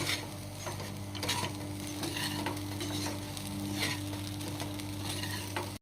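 A spoon stirring flattened rice with coriander leaves in a hot pan, a steady sizzle with scraping sweeps and clinks, close and even, with a low hum underneath.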